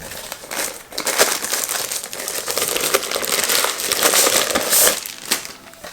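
Loud, close crinkling and crumpling of packaging as a TP-Link Deco mesh WiFi unit is unboxed, continuous rustling with sharper crackles throughout.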